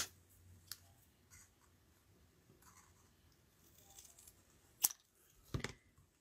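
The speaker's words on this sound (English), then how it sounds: "And then I need to snip a piece off of this." Scissors snip a piece of paper during a stamping craft project, giving a few sharp close clicks and cuts separated by quiet pauses.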